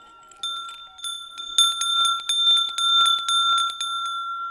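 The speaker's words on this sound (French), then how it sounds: "Voici cloche numéro 1" A homemade bell cut from the end of a fire extinguisher rings out with a bright metallic tone, struck repeatedly in quick irregular hits with a long steady ring underneath, close and loud.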